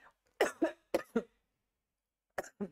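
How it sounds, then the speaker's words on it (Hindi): A few sharp coughs in two quick bursts, close and fairly loud, then a short pause and another pair of coughs. "खांसी भी परेशान कर रही है"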